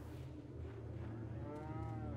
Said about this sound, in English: I can shoot the cow.